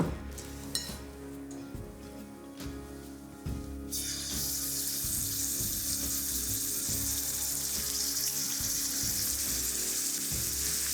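Pork goes into a hot pan with a little oil, and a loud, broad sizzle starts abruptly partway through and holds steady to the end, with no talking.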